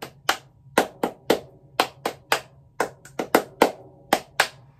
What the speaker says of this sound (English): higher pitch clap